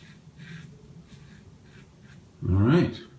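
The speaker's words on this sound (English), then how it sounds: "you can hear the whiskers that are left being cut by the" A vintage safety razor cuts whiskers in a brief, close scratchy rasp near the end, after a stretch of quiet talking.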